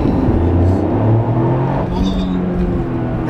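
A GRMN Toyota Yaris accelerates hard, its engine note a loud, steady low drone with rising tones, heard from inside the car with faint rushing air on top.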